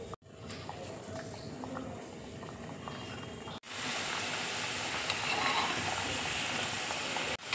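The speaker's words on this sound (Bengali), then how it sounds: "কড়াইয়ে দেখো তেল দিয়েছি, তেল দেখো গরম হয়ে গেছে। এবার আমি এক এক করে কড়াইয়ের মধ্যে ছেড়ে দিচ্ছি।" Cornflour-coated potato pieces hiss and bubble in hot oil in a wok. A steady, loud frying roar runs throughout and swells after a brief break midway, with no talk over it.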